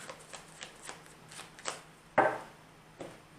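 Tarot cards are shuffled by hand in a quiet room: a rapid string of soft riffling flicks, then a sharper slap as the deck is squared, and one last light tap.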